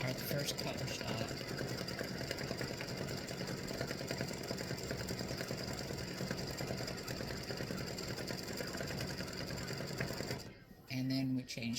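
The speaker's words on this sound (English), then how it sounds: "So I'll just try to give you the highlights of the stitching." An embroidery machine stitches a Halloween witch and spiders design, a loud steady rapid mechanical hum and needle clatter running nonstop before a brief pause and restart at the end.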